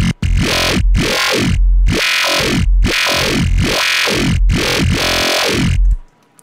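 Squishy FM8 bass synth with growl and the filter cutoff pushed fully open, loud wobbling notes pulsing in short repeated bursts with sweeping tone shifts, then a sudden stop near the end.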